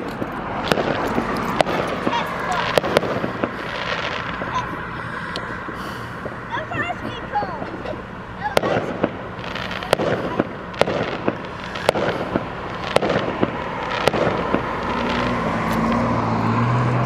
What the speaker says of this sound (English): I didn't know there was fireworks tonight.